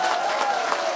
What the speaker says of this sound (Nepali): जोरदार ताली साथमा तपाईलाई